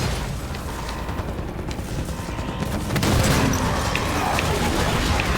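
Gunfire and booming explosions in the video game Halo 5, a dense, continuous battle din that swells louder about halfway through, with no clear speech over it.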